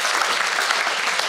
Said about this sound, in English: Can we just give them another hand of applause?